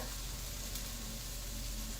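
Food sizzles and crackles steadily in a hot pan during meal prep, a constant close hiss with no talking.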